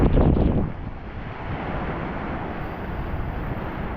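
Strong typhoon wind during Typhoon Uwan in Batangas, a steady broadband roar buffeting the microphone, loudest in a brief gust at the start and then holding at a constant rushing level with no voices.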